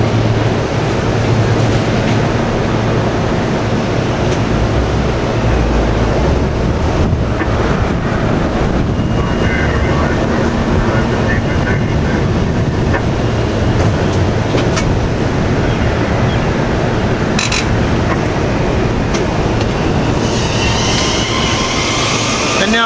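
Commuter rail cars roll through Bryn Mawr station at rush hour in a loud, continuous rumble with wheel clatter and squeal, close by and without pause, with wind buffeting the microphone.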